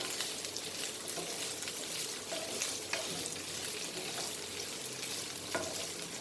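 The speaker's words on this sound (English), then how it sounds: "Fry nicely so that the cumin and potatoes get nicely together, and the garlic flavor also, and the peri flavor." Cumin, potatoes and garlic fry in a pan, a steady close crackle with occasional louder spits and scrapes of stirring, no voices.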